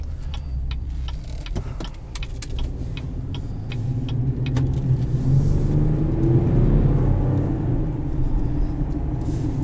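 Steady low road rumble and engine drone inside a moving 2018 Chevrolet Colorado ZR2 pickup truck, with faint ticking clicks in the first half and no talking.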